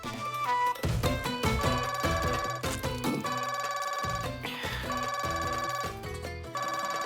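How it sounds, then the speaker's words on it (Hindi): A phone ringtone plays loudly in a repeating electronic melody with brief gaps between phrases, in a Hindi-dubbed film scene. "आपका फोन बज रहा है, जवाब दीजिए।"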